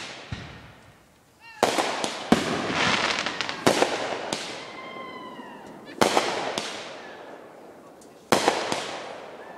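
Neighbors' fireworks burst outdoors in several loud, sharp bangs spaced a couple of seconds apart, each trailing into crackling, with rising whistles between them.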